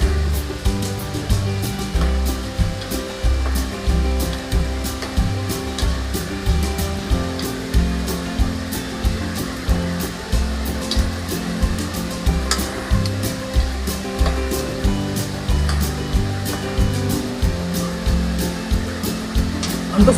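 Food sizzling in a cooking pan while being stirred, a steady frying hiss with repeated scraping strokes of the spoon in a regular rhythm, close and fairly loud, with no talk.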